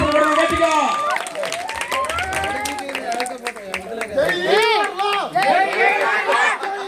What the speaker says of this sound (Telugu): అందరూ చప్పట్లు కొడుతూ గట్టిగా